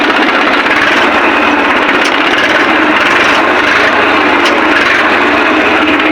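A tractor engine runs loud and close with the accelerator pressed, a constant dense roar that holds steady throughout without pause.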